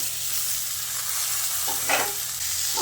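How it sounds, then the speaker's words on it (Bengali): Cut yardlong beans and potatoes frying and being stirred in a hot pan, a dense steady sizzle close by with a couple of scraping stir sounds near the end, no voices. "এখন বরবটিটা ভাজার জন্য একটু নুন দিয়ে আলুর সঙ্গে বরবটিটাকে আবারও ভেজে নিচ্ছি"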